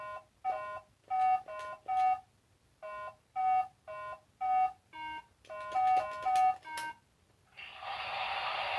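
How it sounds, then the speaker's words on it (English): A modern Simon memory game toy plays a sequence of short electronic button tones, then bursts into a synthesized round of applause that hisses on to the end. "Every so often it will do that round of applause."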